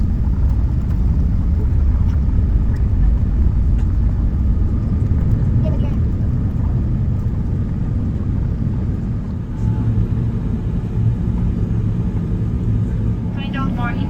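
Inside the cabin of an Emirates A380 airliner during takeoff on a London to Dubai flight, sped up, a loud continuous engine roar and rumble fills the space steadily, with a faint clatter toward the end.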